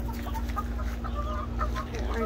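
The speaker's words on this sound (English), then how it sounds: "when Muffin gets old enough, I'm gonna get some chicks from Muffin." Backyard chickens cluck close by in a steady stream of soft calls over a constant low hum.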